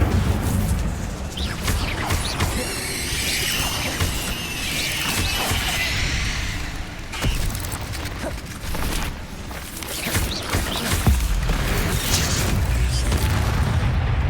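Incendio fire spells are cast in Hogwarts Legacy, bursting as repeated booming whooshes and crashes of flame in a loud, dense, busy sequence of combat effects.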